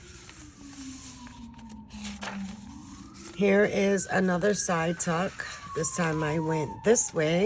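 Sirens from emergency vehicles pass outside, a faint wailing tone gliding slowly up and down in the background while someone talks close by.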